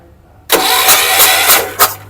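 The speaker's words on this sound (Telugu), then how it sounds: "మళ్ళొక్కసారి అలా ఇంజన్ తిప్పిద్దాం రన్ చేపిద్దాం" An auto rickshaw engine sputters and catches at once after a brief quiet, then runs steadily with a couple of throaty surges, loud and close.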